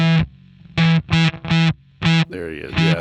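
Electric guitar through a lightly gated fuzz pedal, a run of loud, buzzy stabbed chords that cut off sharply into near silence between hits, ending in a brief bent, wavering note.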